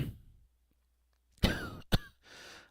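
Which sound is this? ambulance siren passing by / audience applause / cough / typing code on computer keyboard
cough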